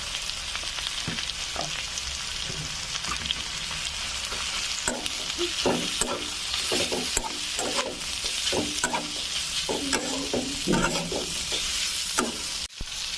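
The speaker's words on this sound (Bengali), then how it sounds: "এইভাবে আরো কিছুক্ষণ ভালোভাবে ভেজে নিব।" Spiced banana stem fries in a pan, with a steady close sizzle broken by repeated scraping strokes of a spatula as it is stirred, and no voices.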